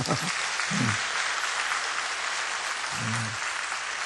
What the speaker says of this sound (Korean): 다시 한번 박수 쳐줬으면 좋겠어요.